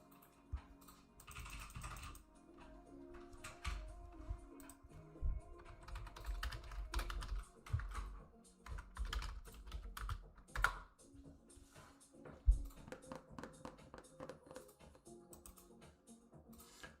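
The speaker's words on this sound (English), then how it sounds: "That keyboard's so loud, by the way." A computer keyboard typed on right beside the microphone, rapid clattering keystrokes in irregular bursts with brief pauses, fairly quiet overall with a few sharper clacks.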